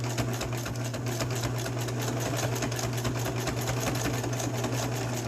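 A sewing machine runs in a fast, steady whirring rhythm while stitching a fabric face mask, close and continuous with no pauses.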